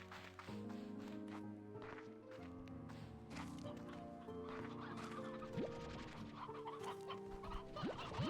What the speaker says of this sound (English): Yep, that's a lot of chickens.